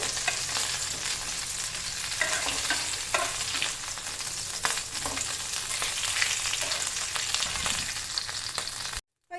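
Ground onion paste sizzles and spits steadily in hot oil for a Kerala chicken pollichathu, a dense, continuous frying hiss with occasional stirring scrapes, close and loud throughout before cutting off briefly near the end.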